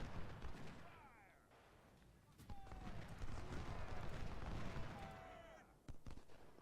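Skirmishers trade scattered musket shots in an Ultimate General: Civil War battle. Sharp cracks and distant booms come at an uneven rhythm over a layer of battle noise.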